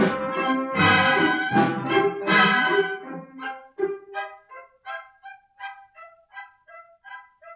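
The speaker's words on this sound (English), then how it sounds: "you can hear the duck quacking away inside the wolf" Rapid honking quacks from a duck, loud and harsh at first, then a steady run of shorter, evenly spaced quacks that gradually soften.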